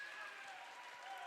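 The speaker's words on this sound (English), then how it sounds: "The hometown Eagle crowd really getting into this one." A hometown crowd at a Northern Michigan high school basketball game, St Francis at Bellaire, applauds in a faint, steady wash of clapping and cheering heard from a distance.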